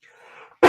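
A single sharp cough bursts out loud and close at the end, after a faint quiet stretch.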